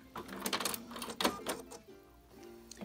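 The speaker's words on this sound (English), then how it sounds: "when this stitch is finished, this machine will stop sewing" A Bernina 770 sewing machine stitches a decorative pattern in rapid, irregular bursts of mechanical clatter, moderately close and fairly quiet, then winds down to a softer hum at the end.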